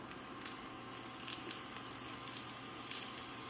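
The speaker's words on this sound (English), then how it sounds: "And that got a sizzle right off the top." Steady dense crackling and hissing of ground beef sizzling in a hot skillet, continuous and close, with no voices.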